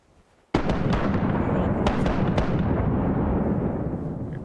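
Ship cannons in Rise of Piracy fire a broadside: a rapid ragged volley of loud booming blasts that starts suddenly and keeps rumbling, with sharp separate reports standing out early and midway through.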